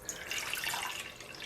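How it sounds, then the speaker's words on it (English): Water from a tap runs steadily into a pan set on a portable commercial induction cooktop, a continuous close, moderately loud splashing pour with no talk. "I'm just going to put some water in here"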